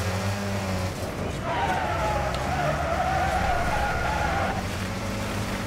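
Opponent cars race alongside and overtake in the demolition racing game Wreckfest, engines roaring steadily with tires skidding and squealing through a long continuous stretch, close and loud, with no talk.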